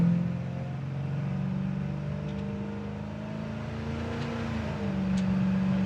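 A 1962 Chevrolet Biscayne Custom pulls away with its engine droning steadily and the pitch climbing as it accelerates in overdrive, then a shift near the end brings a brief change in tone, all close and continuous with no talk.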